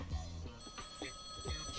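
A telephone ringing in the ToeJam & Earl: Back in the Groove video game, a repeated electronic ring in short bursts over a busy background of game music.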